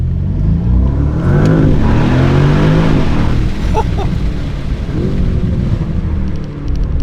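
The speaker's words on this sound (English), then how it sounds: "Window down, twin turbo V8, let's go." A powerful twin-turbo V8 engine in a Porsche Panamera Turbo E-Hybrid roars loudly as it accelerates, climbing through gears with a brief shift pause, heard close and intense.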